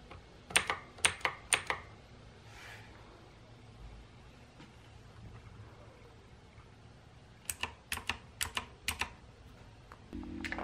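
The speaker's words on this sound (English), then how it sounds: "you could hear the difference then between the keys. The Kmart one sounds so much more louder than what the Logitech one does." Clicky mechanical keyboards, a Kmart gaming model and a Logitech, typed on in two close bursts of sharp rapid keystrokes, the first near the start and the second after a quiet pause near the end.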